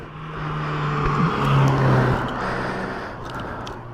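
A Mazda MX-5 sports car passes by close and loud, its engine note rising and then fading over a few seconds, heard alone with no talk.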